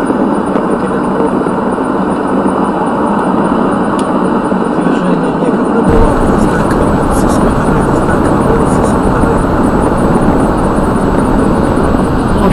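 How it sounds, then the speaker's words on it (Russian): Road noise rumbles steadily inside a car cabin while driving on a highway, a loud broadband roar and rustle from the pavement that grows heavier partway through. "вот шум в салоне автомобиля – это от дорожного полотна"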